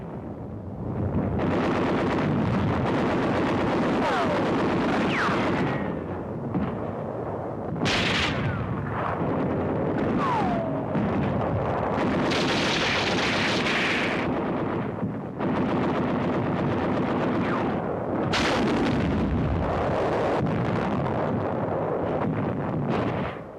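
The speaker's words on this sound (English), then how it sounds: "The enemy uses mortars, rockets, and artillery to hinder our advance." Continuous heavy combat din from the WWII battle of Manila, with booming artillery and mortar blasts, rolling rumbles and scattered gunfire, loud and sustained throughout.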